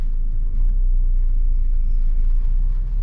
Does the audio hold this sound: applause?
no